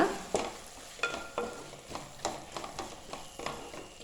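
A pot of vegetable biryani, Kerala style, with coriander and mint leaves folded through it, is stirred with a spoon. It gives a steady run of close, soft scraping strokes roughly every half second.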